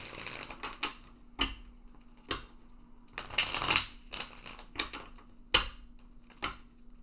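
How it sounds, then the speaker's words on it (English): Tarot cards handled and placed down on a table, a series of soft crisp slaps and shuffling flicks, close and quiet, with a few brief bursts of card rustling. "we're going to look at and throw another card down here"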